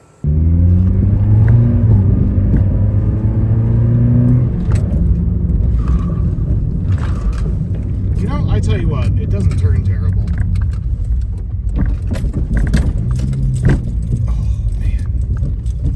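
A Honda Fit on cheap coilovers rumbles along the road with loose metallic clattering and jangling from the rear suspension, while someone talks over the noise.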